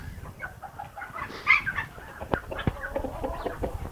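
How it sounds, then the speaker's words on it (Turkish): Brood hens and roosters in a farmyard cluck in soft, irregular bursts at moderate distance, with a few sharper calls standing out and no talk over them. "Bunlar anaç tavuklarımız."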